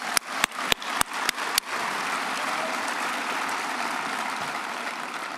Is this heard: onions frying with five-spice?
no